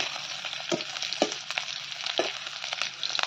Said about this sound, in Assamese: চাওক পিঁয়াজটো ভাজি আছোঁ